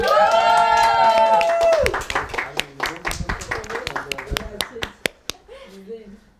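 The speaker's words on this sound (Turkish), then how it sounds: "Çok büyük bir alkışlar Erkan için" A sustained tone fades into scattered hand claps and applause from a small crowd, the claps sharp and irregular before tapering off.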